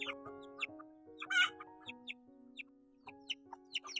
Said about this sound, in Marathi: कोंबडी नाही, पिलकरी नुसती ओरडते कारण की घार आली होती